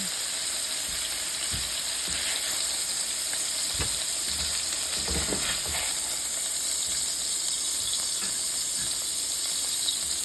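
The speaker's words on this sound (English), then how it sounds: "now that the pork is well browned, I'm just going to remove it from the pan" Browned pork pieces sizzling in a pan for Polish bigos, a steady hissing fry with scattered crackles and faint clatters, close and continuous throughout.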